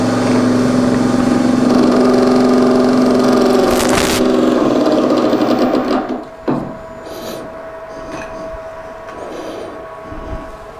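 A wood lathe spins a resin and wood piece during final polishing, giving a steady droning hum with a faint rattle that winds down and fades partway through, followed by quieter workshop noises and no speech.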